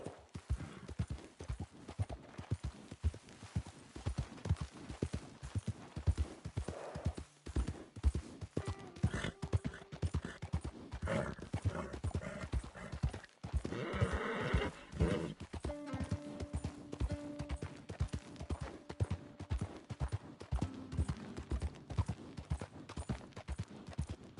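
Steady clip-clop of horse hooves trots along throughout in the video game Red Dead Redemption 2, with a horse whinnying briefly partway through; faint voices occasionally mix in.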